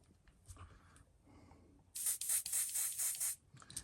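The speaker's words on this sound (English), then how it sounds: "So I'm spraying this on about 25." Spray paint hisses from a can onto a crawfish-style fishing lure, a loud steady burst of about a second and a half, then a second short burst after brief quiet handling noises.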